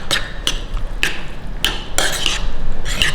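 Tomato salsa mixed with oil in a small bowl, a loud run of repeated clinking and scraping strokes of a utensil against the bowl, coming in a fairly steady rhythm.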